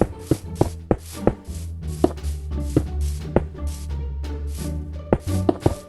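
Stone blocks being placed on a base in Minecraft, a run of sharp, evenly spaced taps and thuds alone over a low steady game background, some landing close together in quick pairs.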